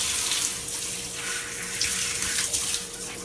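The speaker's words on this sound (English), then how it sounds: "Just make sure that I'm rinsing away all the stuff that I've put on here." Shower water runs steadily during a rinse, a continuous close hiss and splash with small fluctuations in loudness.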